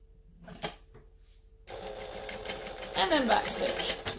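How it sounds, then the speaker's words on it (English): A sewing machine stitches forward and backstitches through fabric while a pattern is sewn, the steady whirring motor starting after a few faint handling sounds and running loudly to the end. "And then backstitch a little bit"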